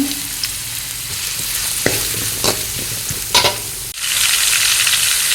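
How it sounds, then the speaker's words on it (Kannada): Finely chopped onions frying in hot sunflower oil for bachelor-style egg rice, a loud continuous sizzle broken by a few scraping stirs and clicks, a brief drop in hiss near the end as the pan settles. "ಇವಾಗ ಎಣ್ಣೆ ಬಿಸಿಯಾಗಿದೆ ಇವಾಗ ಒಂದು ಎರಡು ನೀರುಳ್ಳಿ ಸಣ್ಣದಾಗಿ ಕಟ್ ಮಾಡಿ ಇಟ್ಕೊಂಡಿದ್ದೇನೆ ಅದನ್ನು ಹಾಕ್ತೇನೆ ಅದನ್ನು ಹಾಕ್ಕೊಂಡು ಚೆನ್ನಾಗಿ ಫ್ರೈ ಮಾಡಬೇಕು"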